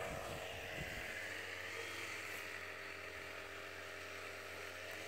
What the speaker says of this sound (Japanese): 草刈り機が回ったら聞こえない。